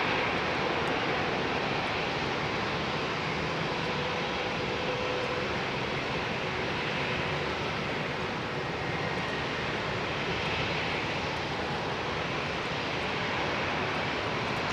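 British Airways aircraft in blue Better World livery at London Heathrow Airport, a steady, continuous engine roar at moderate distance, unbroken and even in loudness throughout.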